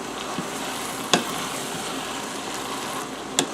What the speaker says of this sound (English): you want to stir it to get that nice creamy texture